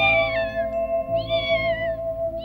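A cartoon cat gives a few close, loud meows, wavering and drawn out, over a steady background tone.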